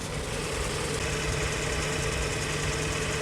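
A Hyundai Grandeur's 2.5 Smartstream GDI engine idles with a steady, continuous rumble and hum, close and fairly loud, with no voices.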